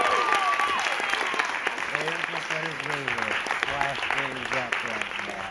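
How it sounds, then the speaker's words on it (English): Improv show audience applauding and cheering, a loud dense wash of clapping with whoops and crowd voices mixed in throughout. "let's give another round of applause for Greg and Freddie."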